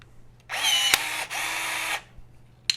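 A Marson BT-2A 16 volt cordless riveting tool whirs in two short motor bursts while setting painted steel blind rivets into a test plate. A sharp snap follows as a mandrel breaks, then a light click at the end.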